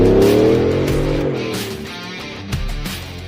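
A 755-horsepower Ford Shelby F-150 Super Snake pickup accelerates hard, its engine note climbing in pitch up close before fading, with a brief shift or thump toward the end.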